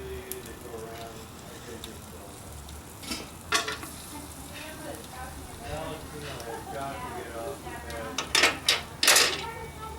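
Hot oil sizzling and dripping off a freshly fried turkey as it drains, a continuous close crackle with a few sharper clatters and bursts, with someone talking over it.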